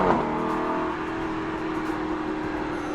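An Aston Martin V8 Vantage sports car engine holds a smooth, steady harmonic drone, close and continuous, with no talking.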